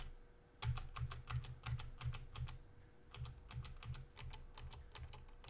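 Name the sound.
Commodore 64 keyboard keys being pressed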